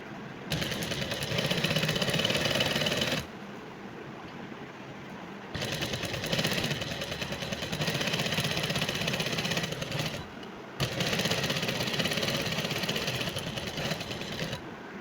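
A sewing machine stitches two pieces of dress fabric together in three long, loud runs of rapid mechanical chatter, each broken by a brief pause.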